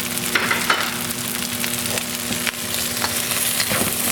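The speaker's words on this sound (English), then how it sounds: "And then I'm going to take a nice chunk of butter, throw that in there." Butter with a little sesame oil sizzles in a hot pan, a dense steady crackling hiss with scattered pops and light utensil scrapes, close and continuous without any talk.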